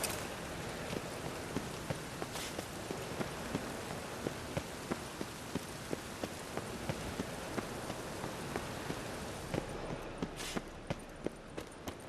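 Steady rain falls across an outdoor scene in The Witcher 3, a dense wash of hiss with scattered drop taps and a faint rhythmic clopping like hooves, with no voices.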